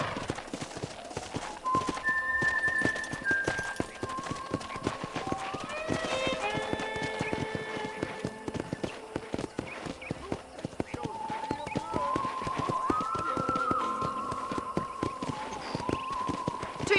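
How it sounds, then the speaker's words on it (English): A horse gallops in the Red Dead Redemption video game, a steady fast clip-clop of hooves throughout with occasional whinnies, close and continuous, with voices speaking over it at times. "I picked out a fine horse for you."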